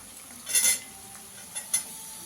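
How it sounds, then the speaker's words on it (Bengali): Chopped onion goes into a pan of fried chicken for chicken fried rice, giving two short bursts of sizzle and stirring over a faint steady background. No one talks. "এখানে একটু পেঁয়াজ কুচি দিয়ে দেবো"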